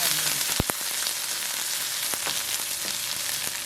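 Chopped onions crackle and fry in hot oil with mustard seeds, a constant sizzling hiss broken by a couple of sharp pops and spoon clicks early on.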